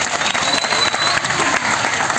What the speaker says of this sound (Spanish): le doy un fuerte aplauso a las tres chicas